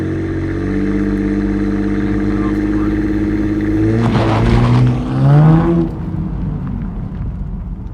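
A V6 Camaro engine revs up against the brake for a launch-control start, a steady mid-pitched drone climbing into a louder surge near the end before settling back, close and loud.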